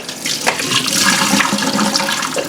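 Water pours and drains steadily from grated potatoes and onions for tater cakes, a continuous rushing splash that stays loud and close throughout with no talking.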